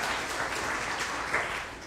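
A church congregation claps for its breakfast helpers at a Sunday worship service, a dense, even patter of applause that stays steady throughout.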